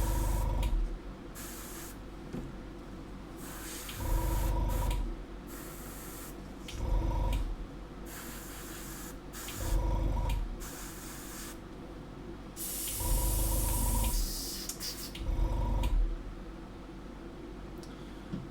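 An airbrush sprays overly dilute paint in repeated bursts of steady hiss, each lasting about a second, separated by quieter gaps, close to the microphone with no speech.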